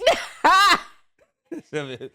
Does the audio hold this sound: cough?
yes